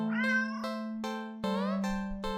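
Cat meows from a video game, several separate tonal calls in a row, close and clear with no talk over them.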